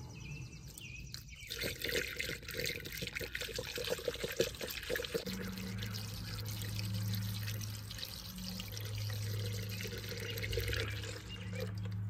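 Coolant poured from a jug through a makeshift funnel into the cooling system of a Honda Element, a steady close glugging trickle that runs on continuously and settles into a smooth pouring rush.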